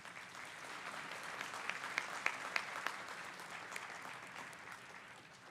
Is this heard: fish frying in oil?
no